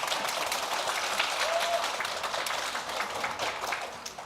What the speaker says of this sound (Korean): 박수 한번 쳐드리겠으면 좋겠습니다.